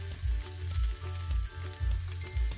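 Sliced leeks caramelizing in a hot pan give off a soft crackling sizzle, with low rhythmic scraping or stirring pulses underneath, close by and without speech.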